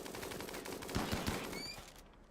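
Turrets fire in the video game Rimworld, a quick cluster of faint rapid gunshots over a soft game background, ending in near silence.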